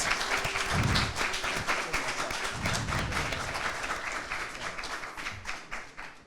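A studio audience on a televised quiz show applauds the T-Rex gladiators team, dense sustained clapping that is loud at first and gradually thins toward the end.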